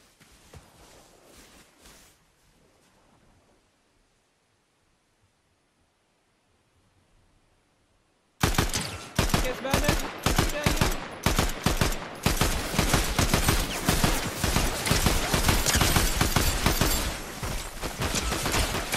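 Gunfire in Fallout 4 starts after a quiet stretch as dense, loud bursts of rapid shots, likely from several weapons at once, rattling on without a break for about ten seconds under no talk.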